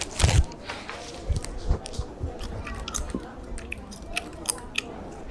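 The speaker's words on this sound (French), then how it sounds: "comme elle mâche" Someone chews food close to the microphone, with wet smacking bites and squishing, uneven and clicky, while faint voices murmur in the background.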